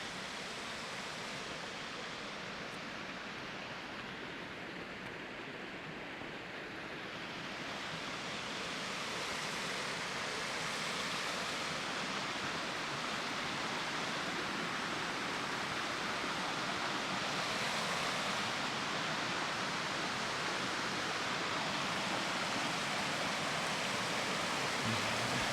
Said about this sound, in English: The water's definitely very active today. Very active. It's not usually this loud.